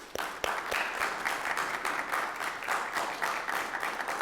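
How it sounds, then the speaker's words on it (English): A senior citizens' community meeting audience gives a round of applause, with a few sharp early claps swelling into steady, fairly close clapping that lasts several seconds. "I'd like to give them a round of applause because they work very hard to come up with these programs"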